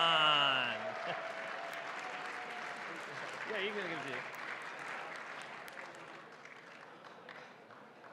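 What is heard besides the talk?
audience applause for award gold medal winner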